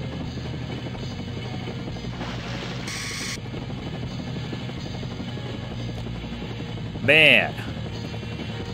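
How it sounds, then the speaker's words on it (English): A helicopter in the game SimCopter flies with a constant droning rotor and engine hum, near and steady, while someone talks over it and a brief sharp tonal game sound cuts in. "This helicopter is so much better than that crap we started with."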